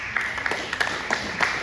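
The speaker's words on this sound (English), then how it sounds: "All right, clap it up." Scattered clapping from a panel-discussion audience, fairly faint and distant, with distinct individual claps standing out at irregular intervals.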